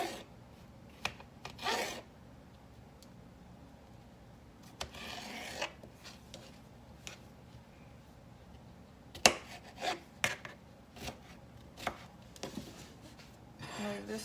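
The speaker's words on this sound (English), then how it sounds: "we're going to cut them in real small little dices" Knife chopping cucumbers into small dice on a board, irregular quiet cuts and rasping strokes with a few sharper taps, close and moderate in level.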